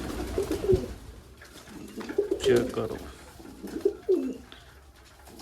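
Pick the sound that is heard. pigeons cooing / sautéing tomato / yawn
pigeons cooing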